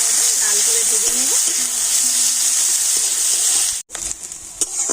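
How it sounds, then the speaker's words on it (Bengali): Onions and four green chillies sizzle loudly in hot oil, a steady close frying hiss that cuts off briefly near the end before resuming with a few stirring clatters; a voice talks faintly over it. "আর ওই তেলের মধ্যে দিয়ে দিচ্ছি পেঁয়াজ, 4টে কাঁচা লঙ্কা। পেঁয়াজটা লাল করে ভেজে নেব।"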